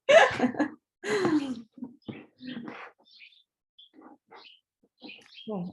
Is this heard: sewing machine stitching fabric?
no